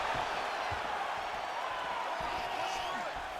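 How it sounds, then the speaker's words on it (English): A virtual arena crowd roars steadily in a UFC 4 light heavyweight bout, a dense wash of cheering with faint thuds from the fighters' strikes underneath and a commentator talking over it. "you hear the crowd react every time they come together"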